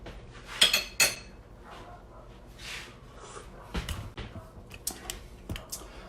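Metal spoons clink against a pot while soup is tasted, with two sharp bright clinks near the start and a few lighter taps later over a quiet kitchen background.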